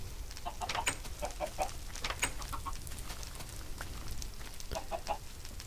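Minecraft chickens cluck in short repeated bursts throughout, fairly close and clear over a busy game backdrop, with no talk.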